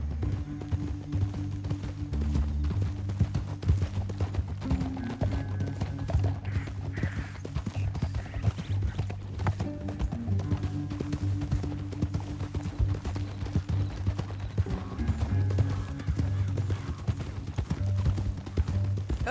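Horse hooves galloping in Red Dead Redemption 2, a rapid, continuous clip-clop rhythm of several horses running together, loud and close over a low droning musical score.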